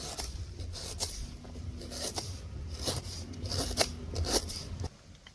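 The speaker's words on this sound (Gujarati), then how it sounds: "આદુના ટુકડા કરી લેવું ઝીણી ઝીણા" Ginger is chopped into fine pieces with a knife, with crisp, repeated cutting strikes in an uneven rhythm, close and fairly loud, stopping near the end.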